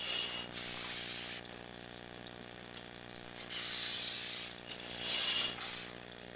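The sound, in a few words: water flowing through a drain line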